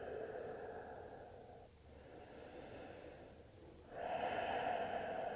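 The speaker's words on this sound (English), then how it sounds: "Allow your exhales to become a bit longer." Slow, drawn-out exhaling breaths during a yoga forward fold, a soft steady breathy rush that briefly eases before a stronger, louder exhale near the end; no talking.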